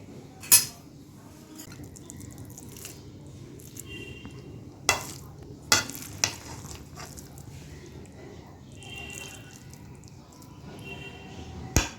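Khichuri with pork and vegetables is served onto a plate alongside mango chutney, cucumber, onion and chilli: a few sharp clinks of a spoon against the dish over a low room hum, with soft scraping between them.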